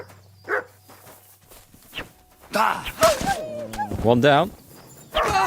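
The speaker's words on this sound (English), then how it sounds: "Wait, do you hear that? Wolves!" Wolves attack in Kingdom Come Deliverance 2 amid growls, yelps and snarling, with brief footsteps and scuffling; someone speaks a short line over the fight, and the snarls build into a dense, close struggle.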